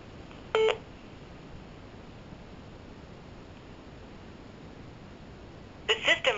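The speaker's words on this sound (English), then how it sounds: "Please leave a message after the tone" A short electronic beep from a telephone answering machine sounds over a faint hiss of line noise, followed a few seconds later by a second cluster of tones.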